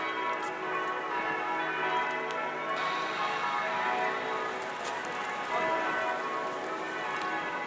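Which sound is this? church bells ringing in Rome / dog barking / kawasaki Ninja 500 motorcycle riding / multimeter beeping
church bells ringing in Rome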